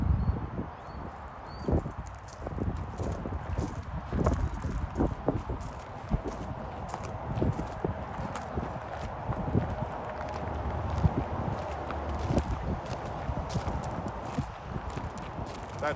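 Horses at an animal sanctuary walk with steady, uneven hoof clip-clops on hard ground, close and fairly loud against outdoor ambience, with several overlapping footfalls throughout.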